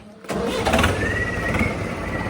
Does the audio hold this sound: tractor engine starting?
yes